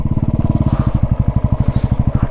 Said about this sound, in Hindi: ये तो गंदा फिश टेल हो रहा है मेरा बाइक